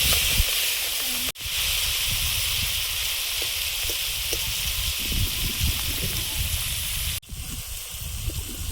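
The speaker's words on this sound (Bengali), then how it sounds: "চিংড়িগুলো ভেজে নেব।" A steady, loud sizzle of prawns frying in a pan hisses throughout, with small pops and two brief breaks in the sound.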